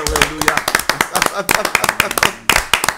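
A church congregation claps in quick rhythmic bursts of applause while a voice exclaims over it.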